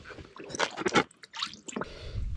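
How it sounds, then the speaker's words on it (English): Cleaning solution squirted through the coolant ports of a Perkins 4-108 diesel engine part, with a few short wet squishing bursts and gurgles, close and uneven, separated by brief pauses. "I'm gonna put this thing down in the solution and then squirt it through"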